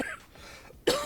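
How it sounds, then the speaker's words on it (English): A person coughs once, sharply and close by, from a tickle in the throat, and the cough sounds like throat clearing near the end after a quiet stretch. "I've got a little tickle in my throat, a little cough there."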